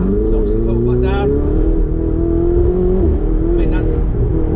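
Ferrari 488 Spider accelerating hard from inside the cabin, a loud continuous engine note climbing steadily in pitch through the gear, with a brief shift near the end.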